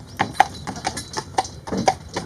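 Horse hooves clip-clop in an even, close rhythm as a horse pulls a covered wagon along an Irish road, loud and clear with no talk.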